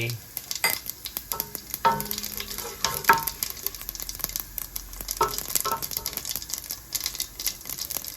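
Fennel and cumin seeds fry in oil with a crackling, popping sizzle full of quick irregular spits and ticks, up close and continuous.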